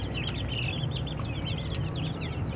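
Desi chicken chicks on a rooftop poultry farm give high, repeated peeping chirps over a steady low hum and general farmyard background noise, with many calls overlapping throughout.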